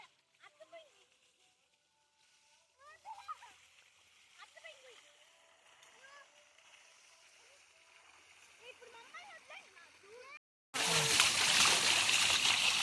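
Voices talk and call out quietly at a village fair, then a sudden loud rush of splashing, pouring water takes over for the final couple of seconds.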